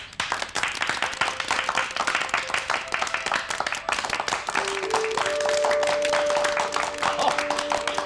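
A room of people at a meeting claps to approve a resolution, dense steady applause close by throughout, with a sustained tone entering partway through.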